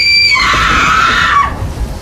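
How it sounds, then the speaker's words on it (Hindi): A woman's shrill, sustained scream, loud and close, rising and then falling away over about two seconds in a dramatized Hindi story scene set on a stormy, rainy night. "शालिनी इतनी जोर से चिल्लाती है कि उसकी चीख उस भयानक काली रात की बरसात को चीरती हुई सीधी लखन के कानों में पड़ती है।"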